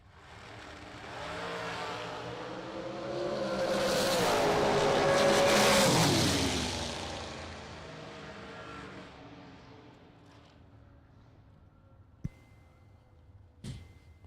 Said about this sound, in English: Dennis Rock leaving first by 800s